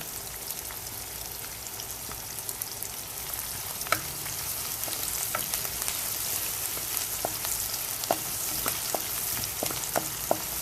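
Garlic stir-frying in a pot that already holds cooked vegetables, carrots and smoked sausage, giving a steady close sizzle with scattered sharp crackles and pops throughout.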